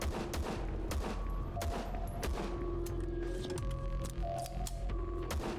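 Pistol gunshots in the first-person shooter VLADiK BRUTAL, a rapid run of sharp cracks at close range with sparse game sounds between them, no talking over them.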